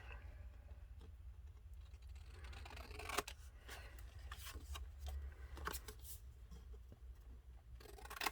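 Scissors snipping through a scrap of paper printed with a map, a few quiet, irregular cuts with faint rustling, close up, no talking.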